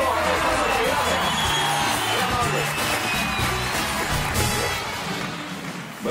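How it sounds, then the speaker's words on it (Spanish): A crowd at an outdoor event applauds and cheers for the Red Cross, a dense wash of clapping, whoops and shouting voices that fades slightly toward the end. "Un aplauso fuerte para la Cruz Roja."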